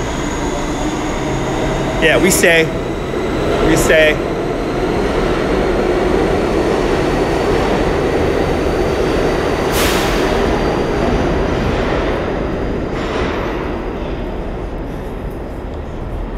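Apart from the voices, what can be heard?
New York subway F train at a station platform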